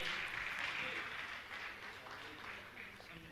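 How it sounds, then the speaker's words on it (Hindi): Audience applause honoring guests at a religious question-and-answer gathering, a steady, fairly quiet wash of many hands clapping that gradually fades over a few seconds. "जोरदार ताली बजाकर इनका सम्मान करें"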